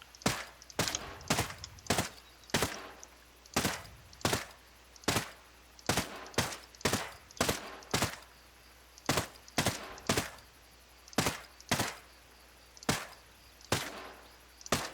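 Assault rifle fire in Ghost Recon Breakpoint, heard as about two dozen sharp, loud shots spaced at irregular intervals, some arriving in close pairs, each with a short decaying tail over a quiet background.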